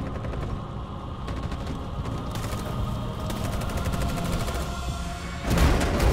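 Sustained rapid gunfire in the video game Detroit: Become Human, a dense crackling fusillade of automatic shots that runs on continuously and swells into a louder, harsher burst at the end.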